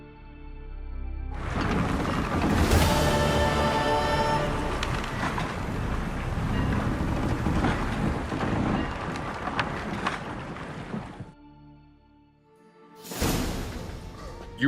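Wind and rushing water swell loudly as a sailing ship gets under way in The Witcher 3, a broad continuous whoosh of sea and canvas that holds steady for many seconds, cuts off abruptly, then returns briefly.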